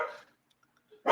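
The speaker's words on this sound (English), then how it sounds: "And your dog's out of control." A dog barks in two short bursts, one at the start and a louder one at the end, with near silence between them, close and indoors at home.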